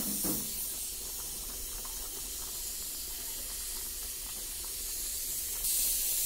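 A pot of thin singhi fish curry simmers on the stove, giving a steady, faint hiss of bubbling and steam that continues throughout with no talking.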